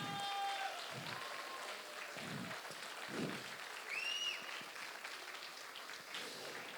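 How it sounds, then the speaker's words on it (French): Audience applause at an eloquence tournament qualifying evening, honoring the candidates, a steady broad clapping wash with a few whistles and cheers rising over it, moderately distant and sustained throughout. "je voudrais vraiment que tout le monde vous applaudisse encore une fois"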